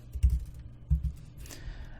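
Computer keyboard keys tapped in a few short bursts while entering a search term in Adobe After Effects, quiet and close with pauses between clusters of keystrokes.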